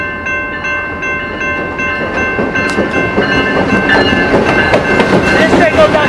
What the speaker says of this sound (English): This is the freight.